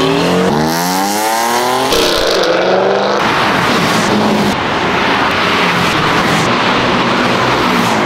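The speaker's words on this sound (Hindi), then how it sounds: "मेरे पीछे देखो सारी सुपर कार्स खड़ी हैं, गाड़ियाँ चल रही हैं" Supercars driving on a racing track, with engines rising and falling in pitch as they accelerate and pass, loud and continuous with a broad roar throughout, no talking.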